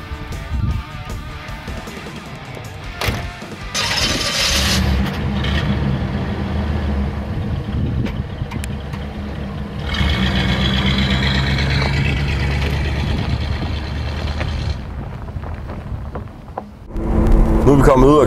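A 1974 Chevrolet Monte Carlo with a 3.5 V8 drives along, its low engine drone and road rumble steady throughout, swelling at times as it pulls, with a louder surge near the end.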